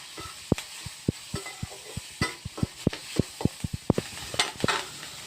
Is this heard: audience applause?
no